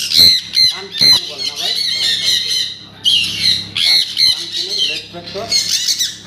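Fancy pet birds kept in pairs at a farm squawk and honk loudly and close by, harsh goose-like calls coming in repeated bursts over several seconds.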